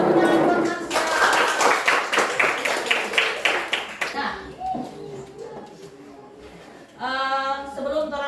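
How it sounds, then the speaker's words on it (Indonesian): A group applauds Marsha after a prayer at a teacher-training session. Lively close clapping lasts about four seconds and then dies away into murmured voices, with a brief tonal sound near the end. "Tepuk tangan buat Marsha."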